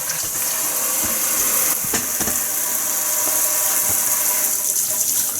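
Lukewarm water runs steadily from a tap to wash a vintage GE Vortalex fan, a constant close splashing hiss with a few clunks and knocks from handling.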